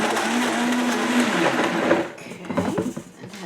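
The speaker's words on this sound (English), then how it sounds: "If you don't have a high-powered blender, it won't work." A high-powered blender grinds frozen fruit into a smoothie, a loud steady whir that shifts to a rougher, choppier churning partway through, with no talking.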